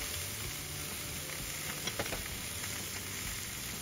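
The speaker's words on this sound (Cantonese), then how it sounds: "反完瘦肉就落埋啲豆腐去煎" Tofu frying in a pan for a tomato and scorpionfish soup, a steady soft sizzle with a few faint stirring clicks near the middle, heard alone and fairly quiet.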